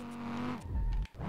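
Audi TT RS drifting in a Shinjuku parking lot in the SLRR racing game, an engine tone sliding down in pitch before a low rumble and brief tire scrub, fairly quiet and short.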